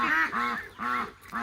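Several farm ducks near their coop quack loudly and insistently, in repeated honking calls close by, with no talking.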